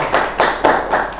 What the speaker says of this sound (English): I would love to have a clap if we can for him